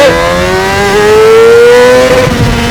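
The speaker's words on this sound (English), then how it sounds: "It will take off pretty crazily, even from the revs down low." A Honda CBR600RR sportbike pulls hard uphill in first gear, its engine note climbing steadily in pitch as revs rise, loud and close with no talk over it.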